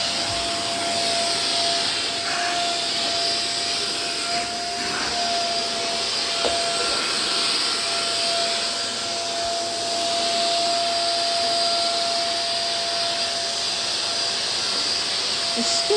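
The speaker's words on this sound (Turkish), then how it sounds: "Hemen aldı süpürgeyi geldi süpürüyor." A vacuum cleaner runs steadily with a loud, constant whine and roar, its pitch shifting slightly as it moves about.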